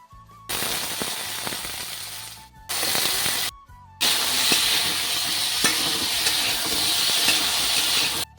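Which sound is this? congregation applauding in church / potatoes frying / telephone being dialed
potatoes frying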